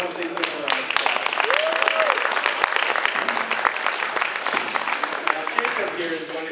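A high school speech and debate audience gives a steady round of applause for their team captain. The clapping is brisk and continuous, with a brief voice rising faintly above it early on.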